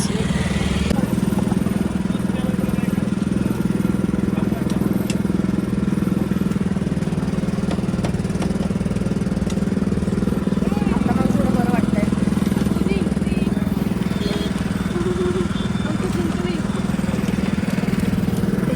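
A wooden sugarcane juice machine runs with a steady, loud motor drone and rattle that stays constant throughout, with voices talking nearby.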